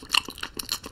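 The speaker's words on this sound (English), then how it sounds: "Oh, he's eating it. It's making crunching noises." A character in the video game Cooking Simulator chews food, giving a few quick, crisp crunches in a short uneven rhythm, close and moderately loud.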